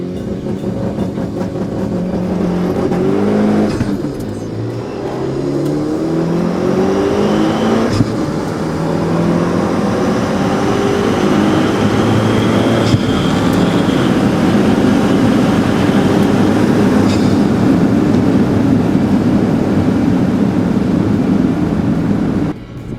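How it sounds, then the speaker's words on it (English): A Mitsubishi Eclipse GSX launches down a drag strip with a loud engine drone that climbs through several gears in rising sweeps over about twenty seconds, heard close, as if from inside the car. "Let's check out that launch again."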